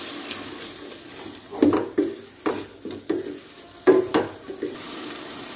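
Water goes into a pan of chicken roast masala with cumin powder. Several bursts of sizzling and stirring scrapes come in uneven pulses, fairly close, with no talking.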